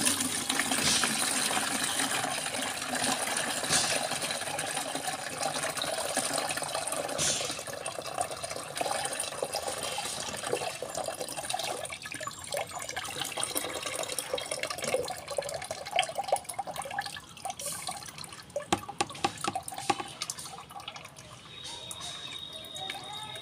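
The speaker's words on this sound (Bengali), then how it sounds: "এই সবজি খোসাগুলো এবার আমি একটা ছেঁকনির সাহায্যে এটা ঢেলে নেব।" Homemade liquid fertilizer made from vegetable peels, poured through a strainer in a steady, continuous stream of splashing and trickling liquid, close and unbroken for over twenty seconds.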